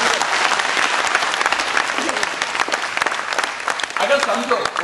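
An auditorium audience at the Rabindra Mandap in Bhubaneswar breaks into loud, dense applause that keeps going for several seconds, with some voices mixed in.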